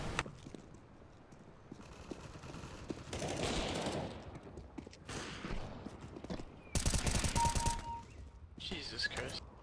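Rapid bursts of gunfire from a shooter video game, with dense overlapping shots and heavier volleys toward the end, set against a steady background of game noise.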